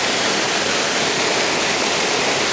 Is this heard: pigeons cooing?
no